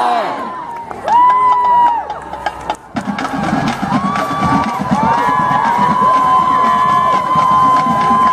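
A stadium crowd at a high school marching band field show cheers and whoops loudly as the band takes the field, with an announcer's amplified voice echoing over the roar and a few shrill shouts.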